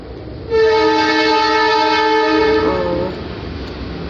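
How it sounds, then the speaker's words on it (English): A passing train sounds its horn, a loud sustained blare lasting about two and a half seconds before cutting off, with low rumble underneath. "Oh, train is going."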